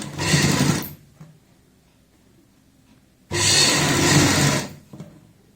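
A sewing machine stitching a folded kurti neck edge runs in two loud close bursts, the first about a second and the second about a second and a half, with near-silence between them.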